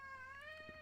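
Pet cat meowing once, a drawn-out, slightly rising and falling cry that is close but quiet, over a low background hum.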